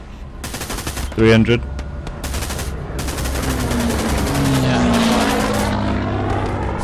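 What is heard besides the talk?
gunfire in video game Hell Let Loose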